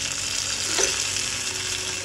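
Hot tempering of fried onion and curry leaves poured into a clay pot of fish mango curry, giving a loud, steady sizzle that swells briefly as it hits the curry, with no one talking.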